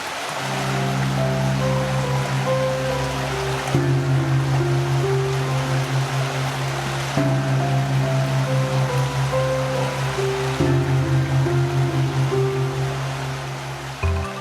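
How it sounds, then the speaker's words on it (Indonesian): Continuous rushing river water flows steadily down hilly ground in Way Kanan, Indonesia, a dense broadband wash with a low persistent hum underneath, no voices. "Aliran air tak berhenti di tanah berbukit."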